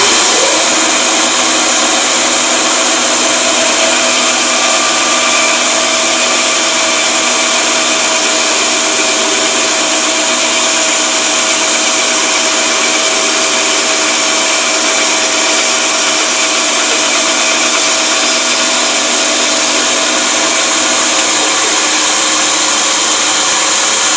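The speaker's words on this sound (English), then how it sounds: "what I'm going to do is make a cut down this line about halfway" Bandsaw running steadily while cutting wood along a scribed line, with a loud, continuous high whine and hum of motor and blade alongside a vacuum dust-collection system, unchanging throughout with no talking.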